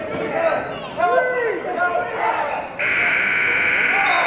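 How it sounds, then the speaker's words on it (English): A loud, sustained buzzer sounds at the end of a period in a high school boys' basketball game, cutting in over crowd chatter and an announcer calling the play, then holding steady to the end. "Turner puts it up at the buzzer."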